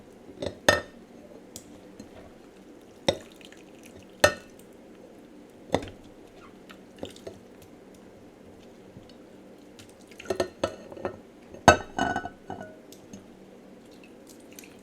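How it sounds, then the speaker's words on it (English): Jars being packed with sauerkraut made from cabbage in a kitchen, giving sparse glassy clinks and taps with a few wet drips, spaced irregularly, quiet and near, with no voices. "Okay, it is ready, so I'm just going to fill my jars."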